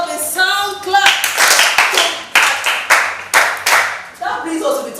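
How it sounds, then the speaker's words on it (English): A class of schoolchildren clapping their hands together in a burst of quick, sharp claps that fill the room, loud and close, with a voice speaking over part of it. "Please give yourself a sound clap."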